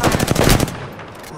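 Loud, close automatic gunfire in the video game Apex Legends: a rapid burst of about a dozen shots, followed by a short fading tail.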